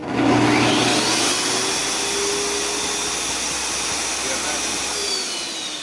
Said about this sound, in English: and now you have a little vacuum.